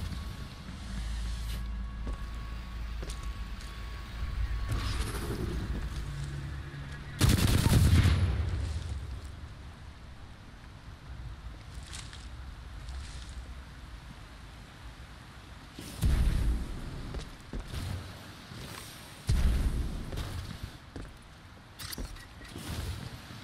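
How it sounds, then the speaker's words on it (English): Shotgun blasts in the video game Titanfall 2, a few heavy booming shots with loud low-end thumps standing out over continuous game ambience of rumble and distant gunfire. "Oh, I forgot I got my shotgun."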